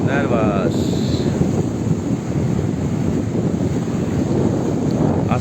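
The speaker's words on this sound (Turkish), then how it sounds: "Hava sıcak ama rüzgar var." Strong wind buffets the microphone at the seaside in Ayancık, Turkey, on a hot day, a constant roaring rush with surf beneath it and a brief faint tone at the start.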